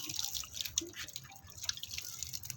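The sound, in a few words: water poured over a rose cutting in a pot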